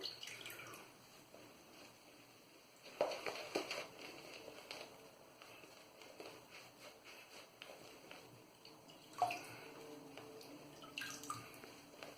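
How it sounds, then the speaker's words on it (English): Water trickles and drips softly into Stirling shaving soap lather in a quiet room, with a few faint splashes and light handling sounds of a synthetic brush. "Put some more water in."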